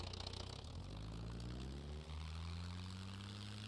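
Propeller aircraft engine drones steadily as the plane taxis in the War Thunder video game, a continuous low hum with rising pitch partway through, alone with no talking.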